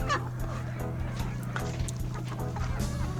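Chickens and roosters cluck on a farm over a steady low hum, with scattered clucks and calls that are fairly close throughout.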